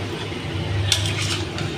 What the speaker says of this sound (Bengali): মাছগুলো দেওয়ার পরে আমি এইগুলোকে হালকা হাতে নাড়িয়ে নেব, যাতে মাছের মধ্যে মশলাগুলো মিশে যায় ভালো মতো।